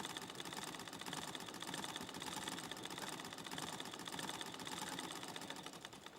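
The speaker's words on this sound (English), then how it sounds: "you guys want to hear another sound effect that I have? It's a treadle." Rapid, steady mechanical clatter of a treadle sewing machine sound effect running continuously at an even pace, fairly close and unbroken.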